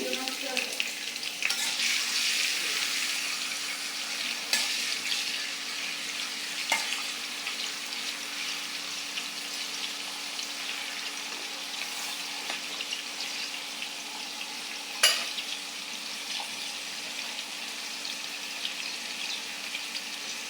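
Chopped onion and green chili frying in oil in a wok, a continuous moderate sizzle with occasional sharp clinks of utensils, recorded nearby at low level.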